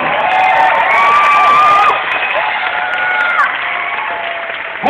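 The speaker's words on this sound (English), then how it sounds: "Let's give them a round of applause." Applause and cheering from a church gathering's audience fill the room loudly and steadily, with whoops and shouts riding over the clapping and a brief dip in intensity near the middle.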